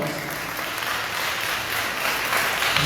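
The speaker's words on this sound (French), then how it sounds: "Encore une fois, je vous demande votre applaudissement pour Madame Nicolas Magloire." An audience at a school anniversary celebration applauds steadily, a broad and even wash of clapping that stays full throughout and swells slightly near the end.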